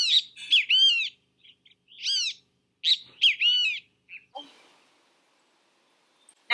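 Chickadee calls ring out in several clear, close bursts of bright whistled and buzzy notes separated by short pauses, followed by a faint rustle and a final brief chirp.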